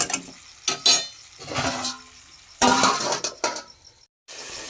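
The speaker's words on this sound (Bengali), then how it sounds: "ঢাকাটা খুলে আমি এবার একটু নেড়ে দেবো।" A metal lid comes off a pot of chicken curry and a spoon scrapes and stirs the contents. Clinks and knocks come in short bursts with brief pauses, close and moderately loud.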